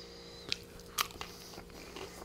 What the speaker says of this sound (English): Oh, the crunch on these are awesome.